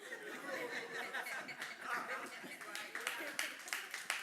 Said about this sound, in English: like 4 of you are clapping